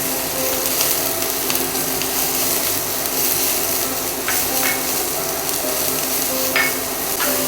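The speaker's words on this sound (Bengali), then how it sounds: "রসুনটা সামান্য ভাজা হয়ে গেলে এর মধ্যে আমি দিয়ে দেব কুচনো পেঁয়াজ।" Chopped onion and garlic frying in a pan give a constant close sizzle, with scraping and clinks of stirring scattered throughout; no one speaks.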